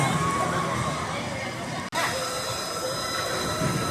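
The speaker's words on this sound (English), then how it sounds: "Got the Dry Gulch Railroad." The Dry Gulch Railroad amusement park train at Hersheypark rumbles along with rail clatter and faint wheel squeal amid a background of park crowd chatter and voices.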